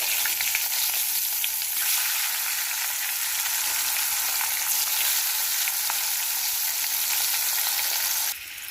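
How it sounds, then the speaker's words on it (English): Potatoes with turmeric powder roast in a hot pan, giving a steady, close sizzle that stays even for several seconds before dropping off abruptly at the end. "So we are going to roast the potatoes."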